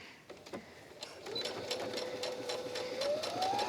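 A sewing machine stitches down the side seam of a quilted, foam-padded tablet case, a steady close whir with a rapid needle chatter running continuously and building slightly toward the end.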